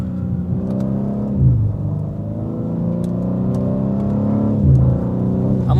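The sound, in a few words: BMW M car engine accelerating on light throttle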